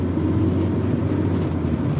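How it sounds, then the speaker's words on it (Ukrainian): Engine of an old Ukrainian vehicle, a newly acquired homemade machine, pulling steadily under load, a constant low drone with rough rumble and wind buffeting the microphone throughout, no talking. "Мотор хороший, мабуть, тяне."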